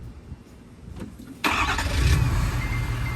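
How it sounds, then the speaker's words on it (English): A 2020 Ford F-250 pickup fires up by remote start: after a quiet stretch of faint background noise, the engine suddenly cranks and catches, then settles into a steady, close, rumbling idle. "This button here will remote start the vehicle."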